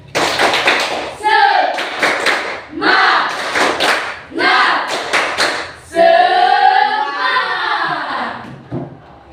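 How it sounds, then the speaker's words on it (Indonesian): Classroom students perform a rhythmic spirit clap in unison, loud close bursts of patterned clapping alternating with shouted chants, in several distinct phrases. "Coba tepuk semangat"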